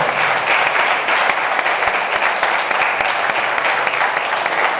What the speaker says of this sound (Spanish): merece también un fuerte aplauso